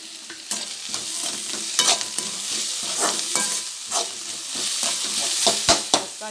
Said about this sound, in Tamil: தக்காளி அது கூட சேர்ந்து வதங்கட்டும், மூடி வச்சுக்கலாம்.